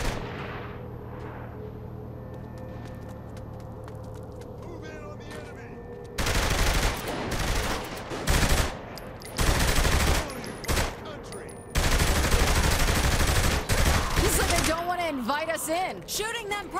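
Gunfire in Saints Row The Third Remastered: after a quieter start, loud bursts of automatic fire come in repeated runs separated by short gaps, mixed with game effects and voices.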